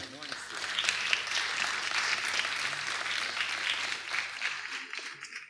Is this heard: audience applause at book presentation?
yes